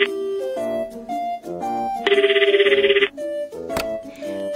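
A telephone ring cuts in as a call is connected during a radio call-in segment, a rapid pulsing trill lasting about a second, set among bright musical jingle tones with no talk.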